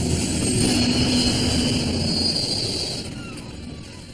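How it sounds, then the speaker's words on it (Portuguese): A large airliner's engines roar steadily as it loses altitude, the broad rushing drone fading somewhat toward the end, with no speech. "O avião perde altitude e começa a cair."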